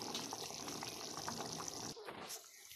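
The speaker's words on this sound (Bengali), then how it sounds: "এবার আমি ভেজে রাখা মাছগুলো দিয়ে দেবো" Fried fish pieces go into a simmering curry, giving soft, steady bubbling and wet liquid noise for about two seconds, then a quieter moment with a faint clatter, all fairly low in level.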